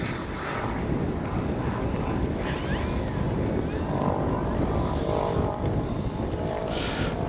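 An E-flite Commander MPD radio-controlled plane on its maiden flight, its electric motor a faint whine passing overhead under heavy, steady outdoor wind rumble, no talking.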